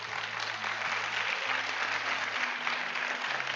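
A crowd applauds steadily for a few seconds, with sustained low musical tones underneath.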